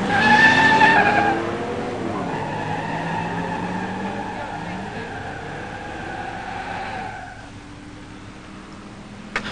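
At a pure stock drag strip, a 1965 Oldsmobile 442 400 with Powerglide and a 1987 Mustang 302 five-speed launch and race, engines roaring loud at first and then droning away into the distance.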